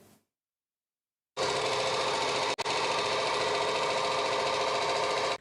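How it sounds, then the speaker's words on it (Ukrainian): Construction machinery breaking up and removing old asphalt on a street beside a central market, a loud steady mechanical roar that starts after a second of silence, briefly dips once and then runs on continuously, close by. "Підрядник демонтує старе асфальтне покриття."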